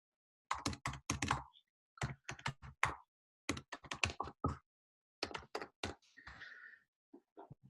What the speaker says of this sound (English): And you can hear me typing very heavily.